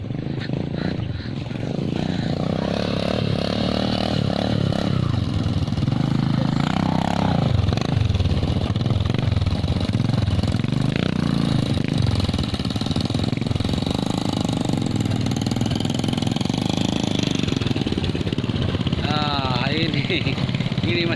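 Motorcycle engine revving and labouring steadily on a slippery, muddy rural trail, loud and close throughout, with people talking over the engine noise.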